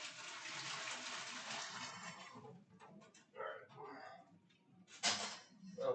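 Water runs from a kitchen tap in a steady hiss, then cuts into short bursts as the flow is switched on and off, with a person talking quietly in between.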